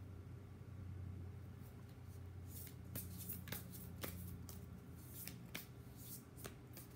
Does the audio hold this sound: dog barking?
no